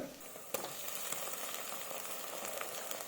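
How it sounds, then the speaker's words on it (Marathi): Onion sautéing in oil in a pan while being browned for prawn rice, a soft continuous sizzle with a sharp clank and occasional stirring scrapes, close and fairly quiet, no talk. "हा कांदा तांबूस रंगावर येईपर्यंत आपण परतून घेणार आहोत"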